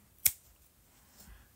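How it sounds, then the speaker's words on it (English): Scissors give a single sharp close snip cutting yarn on a crocheted beanie, followed by a fainter second cut about a second later in a quiet room. "And then I take the shears, the scissors, and just cut that,"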